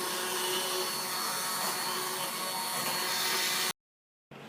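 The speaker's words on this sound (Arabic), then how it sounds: "دحين بعد ما غليوا مع بعض مرة كويس راح أطحنهم بالبلندر." A kitchen blender whirs continuously, purÃ©eing boiled tomatoes and whole basil leaves into Italian tomato soup. The motor drone stays steady and close for several seconds, then cuts out abruptly into silence before a faint return, with no one talking.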